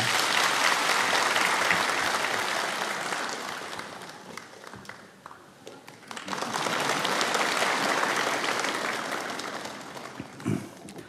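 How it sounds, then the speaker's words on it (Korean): A church congregation at a Korean Sunday service applauds to bless a baby. The warm, sustained applause fills the room, dips briefly midway, then swells again into a second long round. "우리 박수로 이 아이를 축복합니다."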